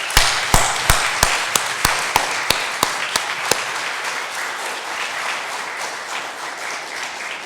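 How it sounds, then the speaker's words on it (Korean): A church congregation applauding at an elder installation service, starting with a string of sharp, evenly spaced claps that blend into steady, moderately loud applause from the crowd, then taper off. "우리 다시 한번 큰 박수로 축하해 주시고 환영해 주시길 바랍니다"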